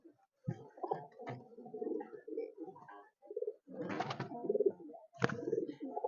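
Several pigeons coo in low, throaty, rolling bursts close by, overlapping irregularly with occasional flutters and shuffling.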